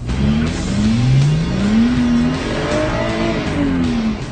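A Lotus Exige S Roadster engine revs hard and close, climbing through rising gear sweeps with loud, continuous acceleration.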